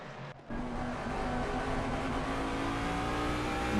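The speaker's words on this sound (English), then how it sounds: "hear that juddering of the throttle there on that 5 litre" The 5-litre engine of a Jaguar GT3 car in Assetto Corsa Competizione at Watkins Glen drones steadily under a juddering throttle after a brief dip at the start, sustained and close.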